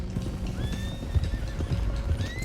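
A video game horse whinnies over steady clip-clopping hooves, with rising neigh calls repeating through the stretch amid busy, loud background noise and no speech.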